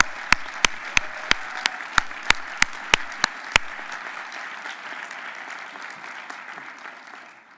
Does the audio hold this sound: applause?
yes